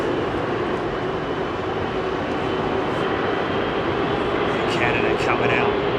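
A jet departs runway 27R at London Heathrow, its engine roar a loud continuous rumble that holds steady throughout, with people talking over it.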